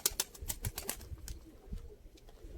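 Pigeons in a backyard coop make a burst of quick wing flaps and scuffles up close, followed by softer scattered fluttering and movement, with no voices.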